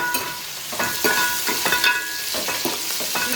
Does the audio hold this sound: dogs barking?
no